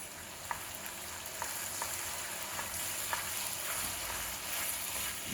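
Big cloves of garlic and vegetables fry in a pan for a red coconut curry with chicken, giving a steady close sizzle with a few soft stirring clicks and no voices.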